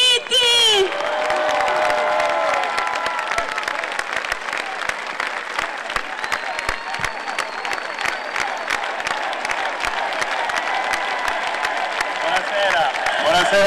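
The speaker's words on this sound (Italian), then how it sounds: "un grande, grande applauso per il governatore Giuseppe" A large outdoor political rally crowd in Reggio Calabria applauds and cheers loudly for governor Giuseppe Scopelliti, dense sustained clapping with whoops and shouts throughout, close and full.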